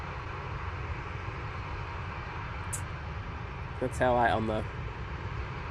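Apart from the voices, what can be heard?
Singapore Airlines airliner arriving at Manchester Airport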